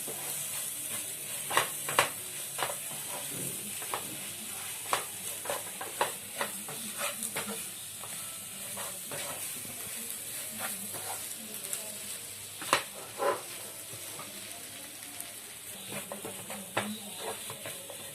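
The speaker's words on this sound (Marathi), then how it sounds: "हे आपण 5 मिनिटांपर्यंत परतायचं आहे." Mashed green peas sauté in a pan for matar kachori filling, a steady close sizzle broken by frequent sharp scrapes and taps of a spoon stirring, with no talk.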